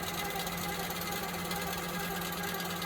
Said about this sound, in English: you can get a quilt done very fast using a Longarm quilter